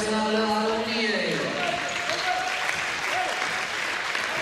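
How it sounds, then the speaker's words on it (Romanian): Crowd applause for the Romanian national handball team at an international friendly against Turkey, sustained broad clapping filling the arena, with music tones fading out beneath it at the start. "Aplauze pentru echipa națională a"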